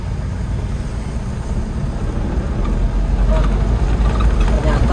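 An Isuzu Elf NHR 55 truck engine drones low and steady while shifting gears in traffic, with the rumble rising slightly toward the end. A voice speaks now and then over the engine.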